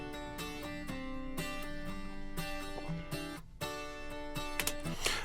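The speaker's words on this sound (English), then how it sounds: "really high Nashville tuned guitars." Strummed acoustic guitars in high Nashville tuning ring out in a pop-country mix, with bright, shimmering chords in steady rhythmic bursts and short pauses between phrases, close and full.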